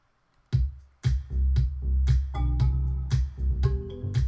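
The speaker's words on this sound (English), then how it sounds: "I then added a kick. Now the kick is 2 kicks put together." Layered kick drum made of a high kick and a sub kick, filtered to blend: a steady series of punchy, booming hits with deep low-end tails, looping alone at a loud, even level for a few seconds.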